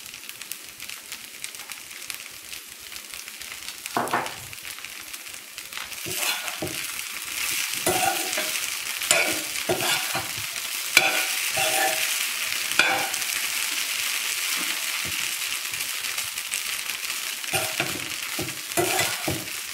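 Podi idli being fried and stirred in a pan with spice powder and sesame oil: a steady sizzle runs throughout, broken by repeated scraping stir strokes, with no talking.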